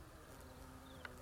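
Violet carpenter bees (Xylocopa violacea) buzz among wild meadow flowers, a faint, thin drone with one brief louder pass near the end, set against quiet outdoor background.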